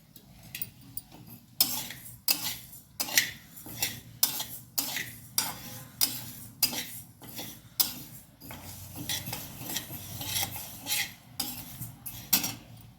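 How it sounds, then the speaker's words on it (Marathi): Moong dal roasting in a pan over a low flame, heard as a rapid run of close spoon scrapes and metallic clinks against the pan in an uneven rhythm, with only a faint sizzle beneath. "आता मी कमी गॅसवर भाजून घेणार आहे डाळ"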